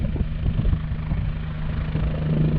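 A Bell 407 helicopter drones nearby with a steady low engine hum and rotor thrum, holding at a constant level throughout.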